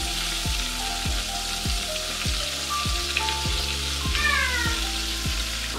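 Chopped onions sizzling and crackling in hot oil in a pan while a pangas fish curry with tomato is cooked, a steady close frying hiss with no talk.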